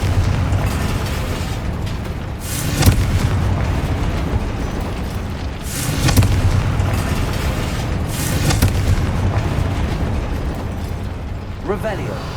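Confringo spell explosions in Hogwarts Legacy burst as loud booming blasts about every few seconds over constant game sound, with a spoken voice in between.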